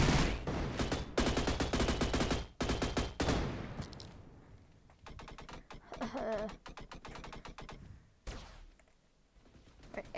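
Rapid bursts from an automatic AA-12 shotgun in a video game, fired in several long, loud volleys with short pauses, followed by sparser shots.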